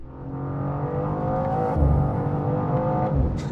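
BMW M2 CS with a turbocharged 3-litre engine and two monoscroll turbochargers driven fast, a loud sustained engine roar rising through revs, with a brief surge near the middle.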